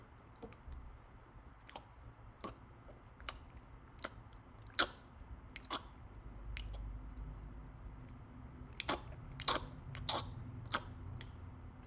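A voice imitates loud chewing: a series of wet, smacking mouth clicks at an uneven rhythm, close and fairly quiet, over a low background hum.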